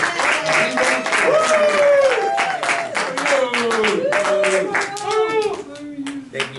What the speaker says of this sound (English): can we just give a great big clap offering as Brother Mario comes up?